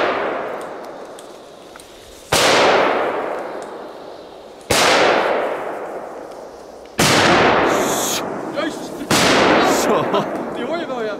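Four loud, sharp firecracker bangs, strong bangers bought at a Polish market, go off outdoors at intervals of about two seconds, each one ringing out and echoing. Faint voices come between the blasts.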